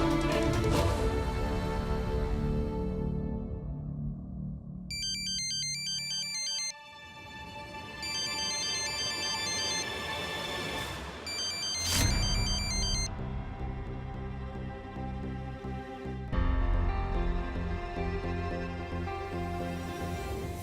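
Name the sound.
phone ringtone while calling someone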